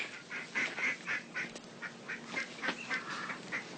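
Ducks quack in a steady series of short, fairly faint calls at a distance, with no voices over them.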